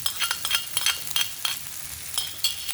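Ground beef with tomato paste, grated garlic and ginger frying in a pan: a steady sizzle broken by rhythmic scraping strokes of a utensil stirring, close and clear with no talk.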